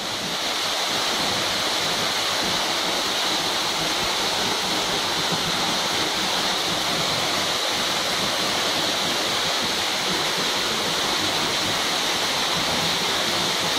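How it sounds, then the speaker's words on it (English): A big waterfall in the botanical gardens at Ventnor on the Isle of Wight gives a loud, steady, close rush of falling water that continues unbroken, with no voices. "Nice big waterfall there."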